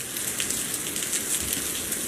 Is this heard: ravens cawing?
no